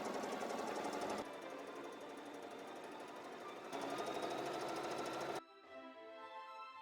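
A sewing machine runs a quarter-inch vertical seam joining quilt columns, its steady whirring drone loud and continuous, shifting in pitch and speed midway before slowing to a lighter, quieter run at the end.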